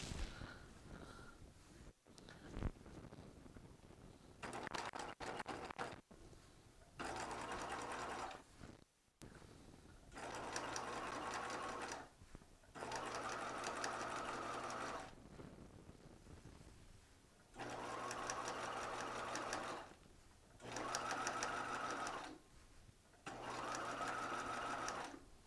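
A sewing machine stitches a flat felled seam in repeated bursts of steady whirring, each run a few seconds long with short pauses between, close and clear with no talk.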